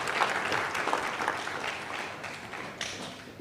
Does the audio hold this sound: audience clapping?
yes